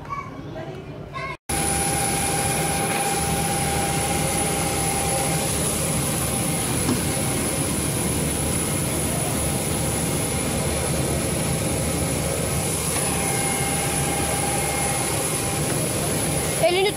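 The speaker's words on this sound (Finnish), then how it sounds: "Sieltä tulee meidän kone" A passenger jet arrives at an airport in Croatia, its engines giving a steady, loud broadband roar with a thin high whine that runs almost unbroken for the whole stretch, after a brief quiet start, with faint voices beneath.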